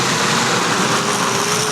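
An El Camino's engine roars steadily at a demolition derby, a continuous loud motor drone mixed with crowd and arena noise throughout, with no clear pauses.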